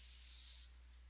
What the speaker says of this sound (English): So again, I'm just spraying over those areas.